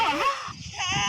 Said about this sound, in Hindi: तुम्हें उसके रोने की आवाज नहीं सुनाई दे रही